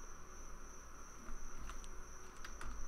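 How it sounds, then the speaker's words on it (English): Crickets chirp steadily through a dark night scene in the survival shooter Road to Vostok, a faint, continuous high insect trill with a few brighter chirps standing out, no voices. "Crickets are going."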